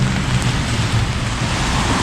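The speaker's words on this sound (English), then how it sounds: "I'm on Sukhumvit Rd and it's raining" Heavy rain falls steadily on Sukhumvit Road in Bangkok's Nana area, a dense, loud, continuous hiss with a low rumbling undertone and no talk.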